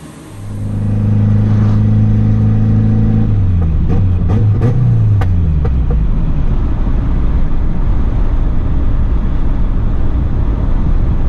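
A turbocharged Honda Element fitted with a limited slip differential on a test drive, its engine droning steadily, then the pitch drops around a shift and a louder, rougher rumble carries on to the end.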